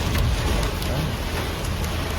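Heavy rain pours steadily and loudly without a break, with a dense rushing hiss and low rumble filling the whole stretch.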